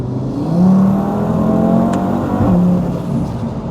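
An Audi RS3 8V facelift with a CTS Turbo intake, automatic, revs steadily and loudly, rising and falling with a whooshing intake whir over a continuous low rumble.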